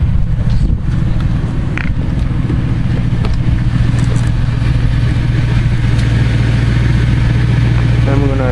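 A 1999 Lincoln Town Car runs with its loud stock exhaust and an exhaust leak, putting out a steady, heavy, close idle rumble that stays constant throughout.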